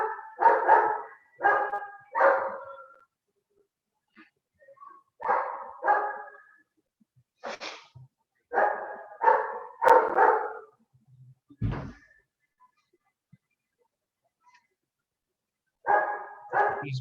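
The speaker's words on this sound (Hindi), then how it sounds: "सर कुत्ते के भौंकने की आवाज आ रही है।" A dog barks in repeated bursts of several sharp barks each, separated by pauses, fairly close and loud in an otherwise quiet room, with one short thump partway through.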